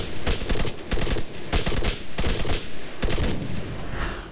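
Rapid bursts of automatic gunfire in the military shooter Arma 3, loud and close, firing in repeated volleys with short pauses between them and no talk over it.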